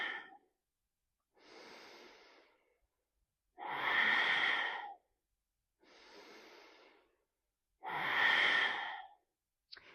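Slow deep breathing exercise with long, audible breaths close to the ear: five drawn-out inhales and exhales alternate with clear pauses, some breaths louder and more forceful than others, with no talking.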